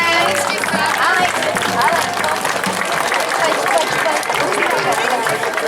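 A crowd applauding kindergarten children at an outdoor Pentecost fair in Slovenská Vinica, dense continuous clapping mixed with crowd chatter throughout.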